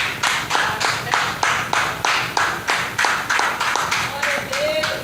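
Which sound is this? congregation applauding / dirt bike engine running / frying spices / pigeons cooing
congregation applauding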